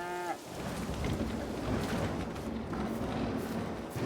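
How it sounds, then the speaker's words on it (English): Cows in the Farming Simulator game give a short moo at the very start, followed by a steady rumbling ambience resembling rain and distant thunder. "I need to check on the cows real quick."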